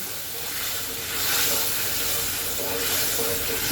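Frying spice paste in a pan sizzles and hisses steadily after a little water is splashed in, the steamy crackle swelling slightly partway through and staying fairly close.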